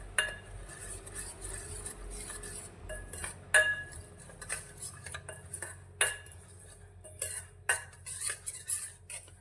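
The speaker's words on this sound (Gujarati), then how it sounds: "હવે બધા જ મસાલામાં તેલને સારી રીતે મિક્સ કરી લઈશું." Spices being mixed into oil for a Gujarati carrot pickle, with a metal spoon repeatedly clinking and scraping against a steel bowl in an irregular rhythm, close up, and no talking.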